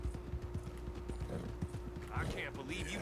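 A horse's hooves clip-clop at a steady walking rhythm in Red Dead Redemption 2, with close, distinct beats and some creaking tack underneath.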